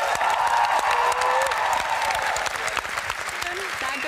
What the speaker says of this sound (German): Applaus für Paulina Rozinski.